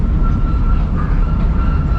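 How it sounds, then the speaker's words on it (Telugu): A toy train ride around Ooty Lake, with a loud, steady rumble of rolling rail cars as the train sets off. No one speaks. "ట్రైన్ అయితే స్టార్ట్ అయిపోయింది"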